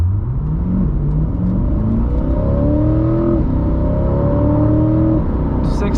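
A 2020 Chevy Corvette C8 3LT Z51 pulls away from a dead stop, engine note climbing through several rising gear pulls with brief shift dips, loud and close from inside the cabin.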